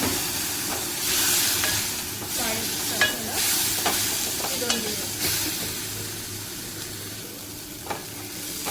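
Chili powder and turmeric sauté in a pan with onion greens for a brinjal bharit, a steady close sizzle broken by a few scraping stirs of a spoon against the metal, with no talking.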